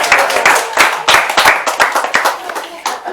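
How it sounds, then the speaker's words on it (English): A small group claps hands together during a guided exercise, a few uneven bursts of claps close by with brief gaps between them. "And clap your hands together."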